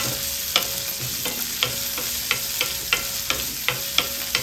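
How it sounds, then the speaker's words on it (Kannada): Green chillies frying in oil in a pressure cooker, a steady close sizzle with regular clinks and scrapes of a spatula stirring, no talk. "ಇದನ್ನು ಸ್ವಲ್ಪ ಬ್ರೌನ್ ಆಗೋಷ್ಟು ಫ್ರೈ ಮಾಡ್ಕೊಳ್ಳಿ."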